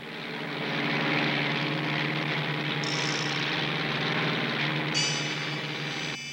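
A propeller airplane in a cartoon drones steadily with a loud, sustained engine hum that swells and then holds, with brief high whistling tones near the end.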